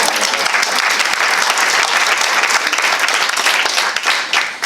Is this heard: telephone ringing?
no